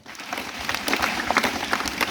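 Schoolchildren at a village primary school celebrating Ambedkar Jayanti clap together in a short, steady burst of applause.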